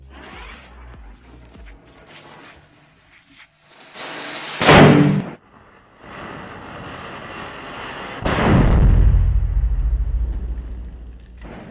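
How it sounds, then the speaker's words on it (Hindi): Firecrackers burst with two loud, close cracks about a few seconds apart. Each crack trails off into a roaring, crackling hiss, and there is no talk. "तो नॉर्मली हम लोग ऐसे पटाखा को फोड़ते हैं"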